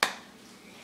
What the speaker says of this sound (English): the first step is you clap your hands twice